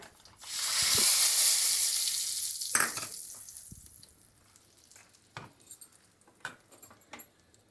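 Spices, dried red chillies and curry leaves tempering in hot oil for a vegetarian lunch: a loud hissing sizzle swells at first, then fades into lighter crackling with spoon scrapes and clinks, and no voices.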